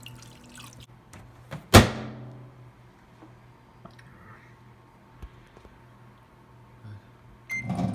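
A microwave oven heating water hums steadily at a low pitch, with a sharp thunk near the start and faint clicks and ticks, ending in a brief rise of noise.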